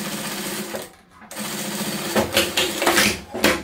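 A sewing machine stitches a patchwork table runner made from fabric scraps, running in short bursts with a brief pause for a backstitch, close and fairly loud.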